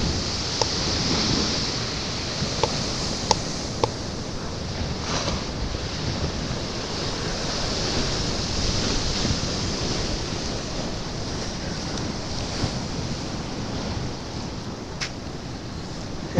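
Sea waves and swell at Filey, a continuous wash of surf mixed with gusting wind noise on the microphone, with a few faint clicks.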